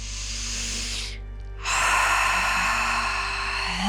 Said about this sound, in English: One more big giant breath in and out.